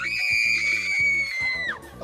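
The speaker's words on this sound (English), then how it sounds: "Just give us your best scream there." A man lets out one long, loud, sustained scream at close range, holding a steady high pitch before it breaks off and drops near the end.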